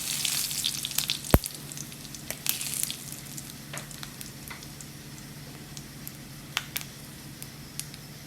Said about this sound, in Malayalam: അതിനകത്തേക്ക് നമുക്ക് ഉലുവ, ജീരകം, വറ്റൽമുളക് ഇട്ട് കൊടുക്കാവേ